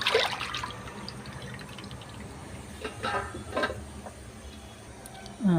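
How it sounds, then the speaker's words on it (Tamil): Water splashes and drips while cluster beans are washed, soft close trickling with a few louder bursts of running water and light handling clatter, no talking. "வாஷ் பண்ண இந்த கொத்தவரங்காயை எல்லாத்தையும் நான் வந்து இப்படி எடுத்து வச்சுருக்கேன்"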